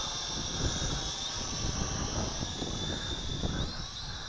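An SY X33-1 cheap folding drone with altitude hold hovers and flies outdoors in a breeze after an automatic takeoff, its propellers giving a steady, close, buzzing whine mixed with wind rumble.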